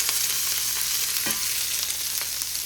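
Onions and vegetables fry in a pan with a steady, close sizzle and crackle, joined now and then by a faint scrape or clink of stirring.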